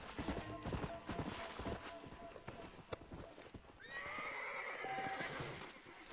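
Horse hooves clip-clopping and a clear whinnying neigh from a horse in the video game Red Dead Redemption, set among game ambience and brief bursts of other sounds.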